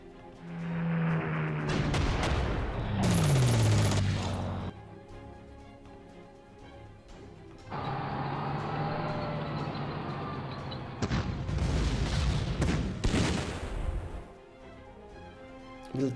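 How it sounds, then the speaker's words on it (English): Artillery bombardment in the World War II strategy game Panzer Corps, with several heavy booming impacts and falling whistles spread across the stretch, separated by lower rumbling passages, all at moderate volume with no voices. "let's try to bombard them"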